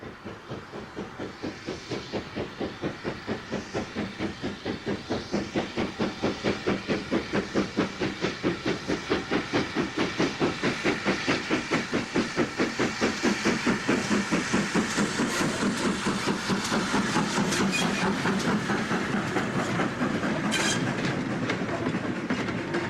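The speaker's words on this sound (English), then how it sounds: "the versatility of Great Western engines is seen on the Llangollen Railway with Foxcote Manor on a freight" Great Western Railway Manor class steam locomotive Foxcote Manor, in lined BR livery, hauling a freight train on the Llangollen Railway, with rapid rhythmic exhaust beats, steady wheel clatter and hiss, loud and continuous throughout.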